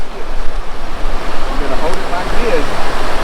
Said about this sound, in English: But the water's running so hard